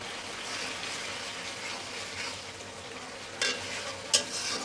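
Ground spice paste for a Bengali koi fish curry is stirred and fried in a pan, making a continuous moderate sizzle with scraping stir strokes and a couple of sharper clatters toward the end.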